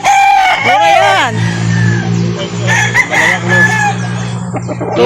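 Roosters crow and hens cluck loudly and close by at a rooster sale in Calauan. Several birds call one after another, and people's voices murmur underneath.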